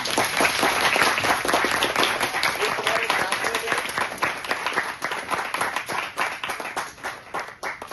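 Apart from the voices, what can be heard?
students applauding at induction program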